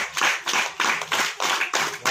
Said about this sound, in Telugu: ఎంతమందికి సంపాదిస్తున్న నమ్మకం ఉందో వాళ్ళందరూ క్లాప్స్ కొట్టాలి